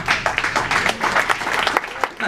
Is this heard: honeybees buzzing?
no